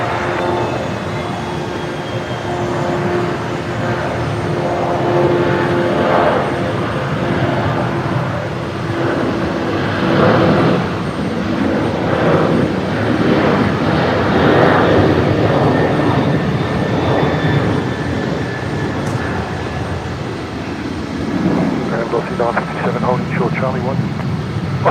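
A Velocity aircraft rolls for takeoff at Brisbane Airport on a stormy evening, its engines a steady, swelling roar at a distance beneath continuous radio chatter.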